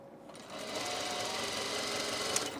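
A sewing machine stitching a tiny French seam on a tunic, running continuously at steady speed after a brief quiet start, close and fairly loud, with no talk.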